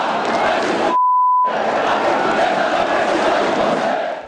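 A large crowd of football supporters roars and chants in a stadium at Canindé after a goalless draw between Portuguesa and Ponte Preta, a loud continuous wash of voices broken by a short steady beep tone.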